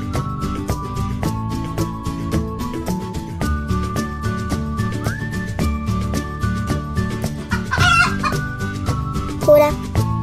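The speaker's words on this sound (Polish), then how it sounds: "Kura." A cartoon hen in a Polish children's animal cartoon gives two short bursts of clucking near the end over lively background music that plays throughout.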